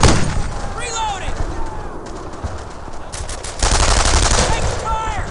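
Automatic and rifle gunfire rattles in rapid bursts in the WWII shooter Brothers in Arms: Earned in Blood, loud and continuous, with shouted squad voices and battlefield ambience mixed in.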